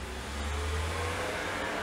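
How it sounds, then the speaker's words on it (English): A garbage truck passes outside an open door, a steady mid-pitched engine drone and broadband road rumble, heard at a moderate distance with no talking. "that was a trash car you hear"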